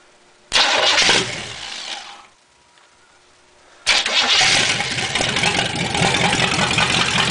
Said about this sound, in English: Then connect positive to the coil and crank her over and see what happens.